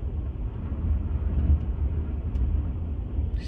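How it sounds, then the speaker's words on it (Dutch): Storm Eunice rages at night, heard as a continuous heavy low roar of wind buffeting outside, steady and loud with no talk over it. "storm Eunice gaat nog verschrikkelijk tekeer."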